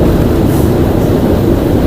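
Steady low rumble of a train moving along Thailand's Death Railway in the jungle, loud and continuous, with no voices over it.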